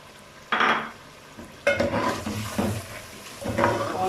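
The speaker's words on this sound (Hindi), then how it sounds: "अब हम इसमें दही ऐड करेंगे" Yogurt going into a pot of frying spices for chicken biryani, giving a few separate bursts of sizzling and stirring scrapes with short quiet gaps between them, close and with no voices.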